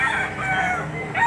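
A rooster crows at a livestock auction market in Lipa, a loud drawn-out call rising again near the end, with faint crowd noise beneath and no clear speech.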